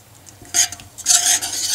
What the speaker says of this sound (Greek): και ανακατεύω